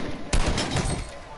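Burst of gunfire from a Fortnite match, landing a headshot: a sharp loud crack near the start, then dense rapid shots and game noise that continue to the end, with a final hit right at the close.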